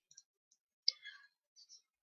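Mouse clicks on an on-screen software button: a few faint, sharp ticks followed by a slightly louder clicking burst and one more short click, heard alone in a quiet room.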